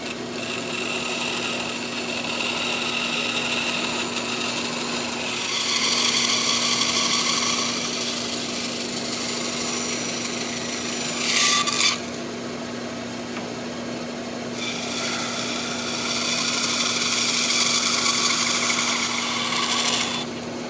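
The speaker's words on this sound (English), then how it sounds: "So we'll cut this through on the bandsaw now." A bandsaw cuts curved wood parts for a demilune table, a steady whining motor hum with the blade rasping through the timber in two long passes and a brief pause between them, close and loud with no talk.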